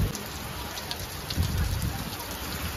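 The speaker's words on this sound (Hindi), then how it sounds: "पानी बरस रहा है धीरे धीरे।" Steady light monsoon rain patters softly with a gentle hiss of drops hitting surfaces, even and continuous throughout.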